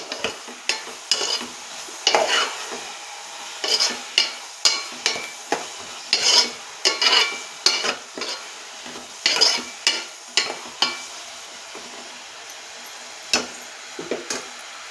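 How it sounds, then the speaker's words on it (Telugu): Mango pieces are stirred into a curry in a pan, with a spoon scraping in repeated short strokes, some quick and clustered, others spaced apart, fairly close and clear with no talk. "ఇప్పుడు ఇందులో కట్ చేసి పక్కన పెట్టుకున్న మామిడికాయ ముక్కలు కూడా వేస్తున్నానండి. ఇదంతా ఒకసారి బాగా కలుపుకుందాం."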